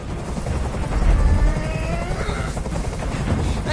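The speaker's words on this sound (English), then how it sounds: "I can't stand that noise anymore. Tell that helicopter to get out of here." A helicopter in the video game Detroit: Become Human gives a loud, steady rotor thrum and roar that keeps going throughout, with no talk.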